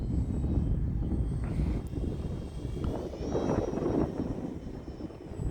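An E-flite Valiant 1.3m RC airplane flies at half throttle, its electric motor a steady, fairly loud drone that swells slightly as it passes, heard alone with no talk.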